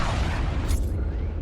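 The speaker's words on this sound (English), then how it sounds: "Nice bombing." Bombs exploding during a Star Wars: Squadrons starfighter bombing run, a heavy sustained low rumbling blast, loud and close with a brief hiss partway through.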